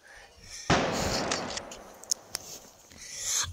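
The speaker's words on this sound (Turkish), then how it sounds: "Pompalı silahla çalışıyorum." A shotgun fires once in the video game Rope Hero: a loud, sharp blast with a long noisy tail, followed by a few faint clicks.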